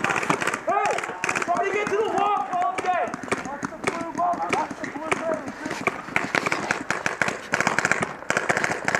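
Video game gunfire crackles in rapid, repeated bursts throughout, mixed with excited voices talking over it.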